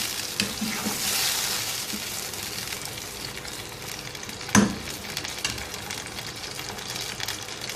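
Chicken frying in a pan for a chicken mirchi curry gives a steady, close sizzle throughout, with one sharp clatter partway through.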